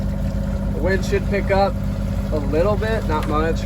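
A sailboat's motor drones steadily underneath, an even low engine hum throughout while a person talks over it.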